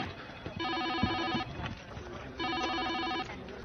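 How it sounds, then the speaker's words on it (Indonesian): Telephone bell ringing in two long bursts of rapid repeated trills separated by a short pause, loud and close, with no talk over it. "tak menyadari akan bunyi telepon yang terus saja berbunyi"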